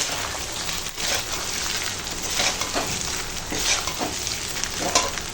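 Fried rice tossed with sugar in a hot pan, a continuous close sizzle overlaid with soft, repeated scraping strokes of gentle stirring, with no voices.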